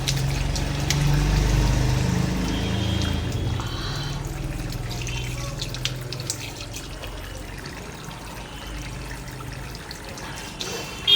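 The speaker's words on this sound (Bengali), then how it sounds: "এখন মুখটা ধুয়ে নেবো দলে।" Running water flows steadily and fairly loudly from a tap as someone washes their face, a continuous close splashing rush that lasts throughout with small splashes on top.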